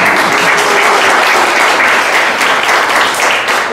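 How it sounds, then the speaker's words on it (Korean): An audience at a 2016 startup ecosystem conference applauds, dense sustained clapping filling the room, loud and even, with no talk over it. "박수 한번 쳐주셔도 돼요."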